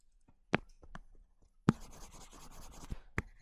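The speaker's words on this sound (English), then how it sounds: "So let me write it." Chalk or marker writing on a board during an electronics lecture on transistor amplifier circuits: a few short sharp taps, then about a second and a half of steady scratchy stroking, with faint room noise around it and no talk.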